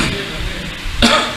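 A single harsh cough or throat-clearing bursts out near the end, following a stretch of low background noise.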